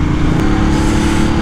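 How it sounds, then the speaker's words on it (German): A moped rides along a road to a Torque Club meet near the Biggesee. Its engine drones steadily and loudly up close, mixed with rushing wind, and nobody speaks. "wir Moped fahren"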